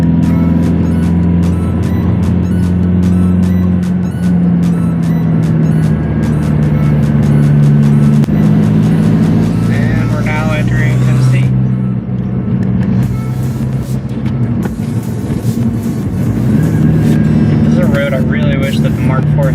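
A Volkswagen MK4 TDI diesel car driving a winding hairpin road, a loud steady engine drone heard from inside with shifting pitch as it works through the bends, with a voice talking over it.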